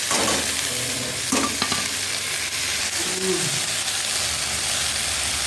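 Water spinach (kalmi greens) frying in a pan with browned onion and garlic, a steady close sizzle with occasional stirring scrapes throughout.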